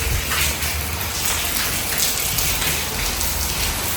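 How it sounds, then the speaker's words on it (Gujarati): Steady rain falls outside during home cooking of sweet maalpuda pancakes, a dense, even hiss of drops on surfaces that carries on without pause for the whole stretch. "બાણે વરસાદ પણ ચાલુ છે"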